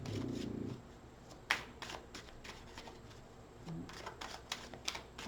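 Tarot cards shuffled by hand in a quiet room, soft riffling and tapping bursts close up, faint and irregular, with a brief low voice at the start.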